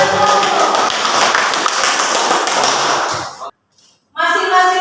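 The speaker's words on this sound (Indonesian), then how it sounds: "Oke, tepuk tangan." A classroom of students bursts into loud, sustained applause, a thick wash of many hands clapping that fades out near the end, followed by a short burst of voices.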